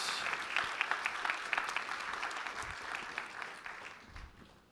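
Audience applause at a startup pitch competition stage welcoming the next team, a steady dense wash of clapping hands held at moderate level throughout, with no talk over it.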